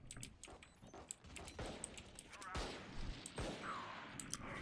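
Killjoy's swarm grenade detonating in Valorant, a crackling run of small bursts and pops with sharp transients scattered through the gameplay, fairly close and busy.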